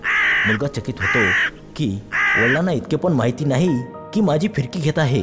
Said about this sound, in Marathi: तो कावळा काव काव ओरडतो